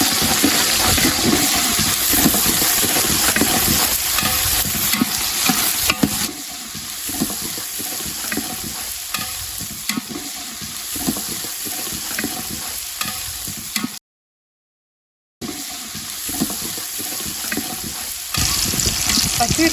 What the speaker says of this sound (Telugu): ఎర్రగడ్డలు వేయించుకున్న నూనెలోనే బిర్యానీ ఆకు, పట్టా మగ్గ, బిర్యానీ సామాన్ అంతా వేసి వేయించుకోవాలన్నమాట